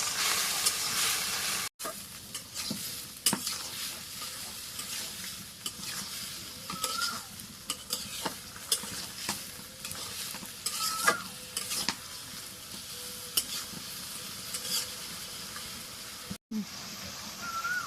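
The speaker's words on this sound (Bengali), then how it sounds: "নাড়া দিই" Garlic and cumin paste sizzles loudly in a frying pan with salt while a spoon stirs it, scraping and clicking against the metal amid steady hissing.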